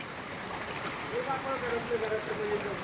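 Floodwater from heavy rain flowing through a residential street and into houses in Chikhli, Pune, a steady rushing wash of water heard close by with faint voices and a brief tonal whine in the background.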